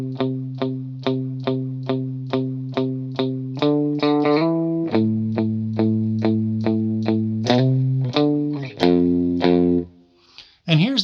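Distorted electric guitar with a wavering chorus shimmer picks an even, repeating pattern that climbs then drops into lower sustained notes, ending in a brief flourish.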